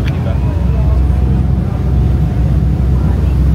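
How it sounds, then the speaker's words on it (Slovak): A fast boat under way leaving Sorrento: a steady loud engine drone with wind and water rush, continuous and close, with a voice faintly present. "A toto vyzerá byť rýchla loďka."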